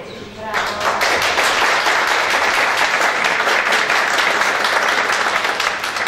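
Dense audience applause at an award ceremony, many hands clapping loudly and continuously after a quieter opening half second, filling the room evenly.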